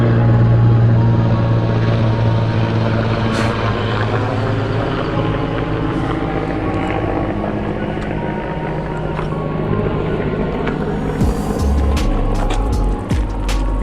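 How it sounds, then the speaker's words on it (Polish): A helicopter carrying a barrel passes overhead, a continuous low rotor rumble mixed with steady rolling and wind noise that stays loud throughout. "coś tu wiozą beczułkę helikopterem"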